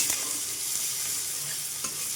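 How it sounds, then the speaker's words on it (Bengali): Onion, green chillies and crushed garlic fry in a hot tempering for a Bengali pui shak ghonto with hilsa fish head, giving a loud, close, continuous sizzle and crackle with no talking. "ফোড়নটা ভাজা হয়ে গেছে, এরই মধ্যে এখানে পেঁয়াজ, কাঁচা লঙ্কা আর গোটা রসুন থেতো করে দিয়েছি।"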